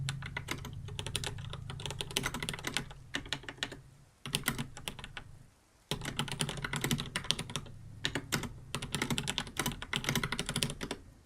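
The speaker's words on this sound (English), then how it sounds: "I'll pull it up on this computer so you can hear me typing" Fingers type on a computer keyboard in quiet, close ASMR style, rapid bursts of soft key clicks running in uneven runs with a couple of brief pauses, no talking.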